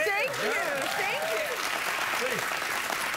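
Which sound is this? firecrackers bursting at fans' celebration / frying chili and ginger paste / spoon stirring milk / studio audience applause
studio audience applause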